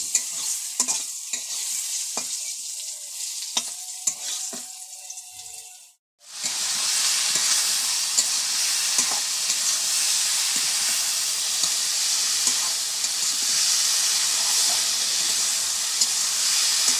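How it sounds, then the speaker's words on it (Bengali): Eggplant fries in a pan with a loud, continuous hiss and crackle, broken by a few scrapes of stirring before a brief drop, then a strong sustained sizzle. "বেগুন ভাজা হচ্ছে।"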